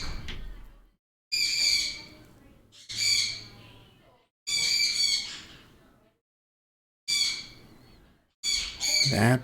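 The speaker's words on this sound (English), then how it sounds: "That baby bird is so shrill." Shrill squawks from a baby bird come in five or six loud, piercing bursts of about a second each, separated by short silences, close and alone.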